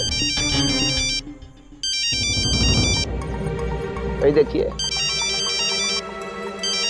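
A phone ringtone plays loudly in repeating electronic bursts, pausing briefly, while someone speaks and other sounds mix in between the rings.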